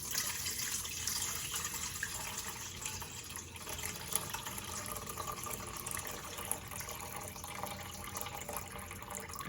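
Warm water pours steadily into a mixing container for sourdough dough, a continuous, close, even splashing flow with faint drips, no talking.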